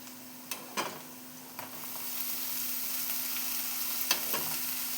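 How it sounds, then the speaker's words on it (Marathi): Chopped fenugreek greens hit a kadhai of fried onion and chilli, setting off a soft steady sizzle that builds, punctuated by a few sharp clicks of a spatula stirring, with a faint constant hum beneath. "कांदा आपला फ्राय झालेला आहे, त्याच्यामध्ये आम्ही चिरून घेतलेली भाजी घालूया।"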